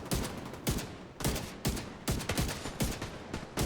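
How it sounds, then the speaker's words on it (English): The Vindicator rifle in The Division 2 fires in rapid bursts, about eight sharp, loud shots in irregular rhythm over several seconds, each followed by a brief echoing decay. "I'm gonna shoot this guy in the legs."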